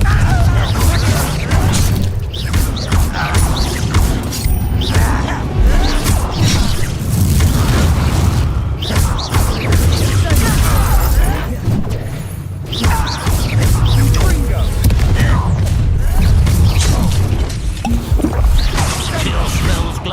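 Spell explosions from a magic duel video game, with the Confringo blasting spell, booming and crashing in rapid succession over a dense rumbling battle din, loud and continuous throughout, with voices shouting spell names.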